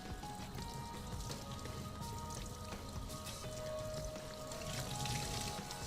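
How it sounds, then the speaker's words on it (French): Clean water pours and splashes steadily over a motocross air filter as it is rinsed inside and out, a continuous close rushing spatter with no pauses. "on va rincer le filtre à l'eau claire."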